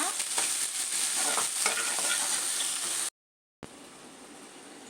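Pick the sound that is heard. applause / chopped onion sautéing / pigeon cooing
chopped onion sautéing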